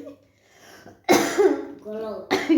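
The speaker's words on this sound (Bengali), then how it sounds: "প্রচণ্ড কাশি হচ্ছে" Several harsh coughs come in bursts, a quiet stretch followed by loud close hacking with a throaty, voiced quality, ending in another sharp cough.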